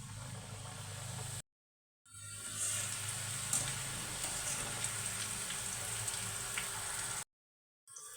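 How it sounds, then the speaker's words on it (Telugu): Diamond chips snack pieces deep frying in hot oil, a steady close sizzle and bubbling crackle that drops out briefly twice, with no talk. "ఆయిల్ బాగా వేడైన తర్వాత ముందుగా మనం కట్ చేసుకున్న వాటిని కొద్ది కొద్దిగా తీసుకొని ఆయిల్లో వేసి"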